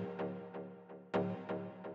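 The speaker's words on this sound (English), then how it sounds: "I'm using a marimba sample and using a modulator, a sine wave, to modulate this guy" A marimba sample in the Pigments synth, modulated by a sine wave, plays as a soft sequence of quick, mallet-like plucked notes with a warbling tonal sustain and one louder accented note, with no voice.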